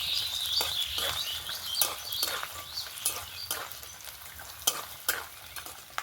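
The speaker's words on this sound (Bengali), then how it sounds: "নারকেল কুচিটা দেওয়ার পরে একটু ভালো করে নেড়ে চেড়ে নেব" Grated coconut and nuts are stirred through hot oil in a pan: a steady close sizzle crackles under repeated scraping strokes of a spatula, with sharp clicks every half second or so.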